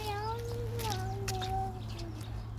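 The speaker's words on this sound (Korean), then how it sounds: "야옹이가 왜 무서워?" A cat meows outdoors on a street on the way to daycare, giving a drawn-out, wavering cry over a steady low rumble of passing traffic.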